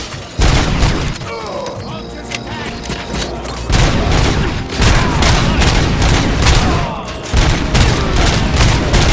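Gunfire during a bank heist shootout in Robocop: Rogue City: loud, dense volleys of shots and booming impacts run almost nonstop, with voices shouting over the fighting.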